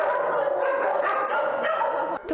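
Many puppies yap and whine together in a continuous, overlapping chorus, close and fairly loud.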